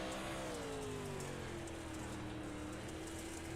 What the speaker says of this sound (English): you can hear the throttle there